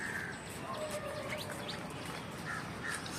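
A small songbird, not a black drongo, gives a few faint, thin chirps and short whistled notes at a distance over steady outdoor background noise.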